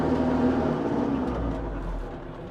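A Kubota L46 tractor engine idles steadily with an even, low mechanical hum and whir, close and continuous, with no talk over it.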